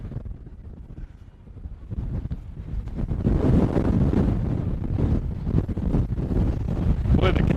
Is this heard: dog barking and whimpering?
no